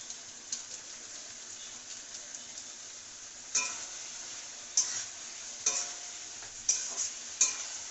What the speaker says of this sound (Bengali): অনেকক্ষণ ধরে কষতে হবে